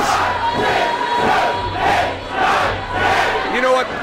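A packed wrestling arena crowd chants in loud rhythmic unison, counting along during a corner sequence of punches, with steady swelling beats about every 0.7 seconds over constant crowd roar.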